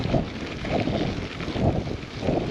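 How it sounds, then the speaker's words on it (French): Gusting wind buffets the microphone during a long gravel bike ride, coming in low, rumbling pulses that swell and fade every second or so. "Le temps est désagréable avec ce vent là"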